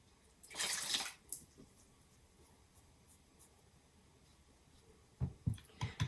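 Paintbrush rinsed in a container of water while making clay pinch pot monsters, with a splashy swish early on and a few short knocks and dabs near the end, quiet and close.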